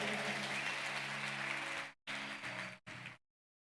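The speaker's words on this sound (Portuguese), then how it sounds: "Dê uma salva de palmas a Ele bem forte" Church congregation applauding loudly and steadily for nearly two seconds, then two shorter bursts of clapping in a sanctuary, with a sustained organ or keyboard tone underneath that cuts off with the claps.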